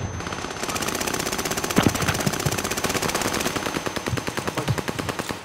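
Automatic gunfire from Call of Duty: Modern Warfare rattles in dense rapid bursts throughout, with heavier distinct shots near the start and rhythmic volleys toward the end, loud and close in a chaotic firefight.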